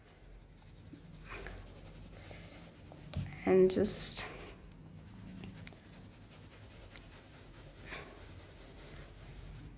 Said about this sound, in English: now at this part we will add the shadow. So take your pencil.